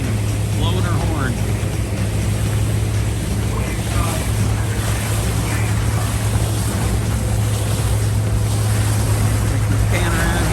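The Miss Ellis Island ferry pulling out of the harbor near the World Trade Center: a steady, loud engine rumble and a low hum under constant rushing water and wind, heard from on board a nearby boat.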